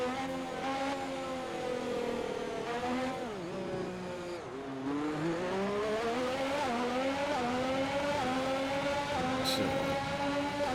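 F1 2021 race car on track: a loud, continuous high-revving engine whine that rises and falls through gear changes and deceleration, with tire squeal mixed in.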